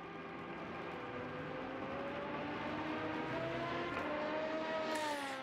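Race cars in a virtual Le Mans 24-hour endurance video game, two cars running wheel to wheel, with a steady loud engine drone and rising revving tones building toward the end, no talk.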